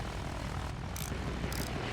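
A propeller aircraft flying in the video game Battlefield 1: steady, loud engine drone with a buzzing hiss, continuous over the whole span and alone without talk.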